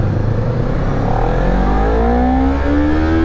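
A Honda motorcycle exhaust revving up close and loud, the engine note climbing steadily in pitch with a dense, rumbling drone throughout.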